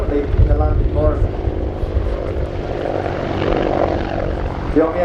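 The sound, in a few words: Army Air Corps WAH-64D Apache Longbow helicopter flying display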